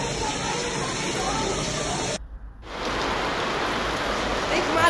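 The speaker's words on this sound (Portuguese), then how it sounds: "Alguns granizos tinham o tamanho de uma bola, tamanho de uma mão." Heavy rain pours down during a strong hailstorm in Uberaba, Minas Gerais, with hailstones as large as a ball, a loud steady roar of falling water and ice that briefly cuts out, then resumes with faint voices underneath.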